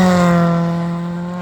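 Rally car engine at a Finnish rally event, a loud buzzing drone with strong steady harmonics that fades slightly over a short moment, heard alone.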